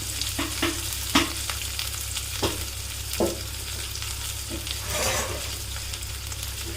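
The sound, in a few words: stirring sliced onions frying in a pan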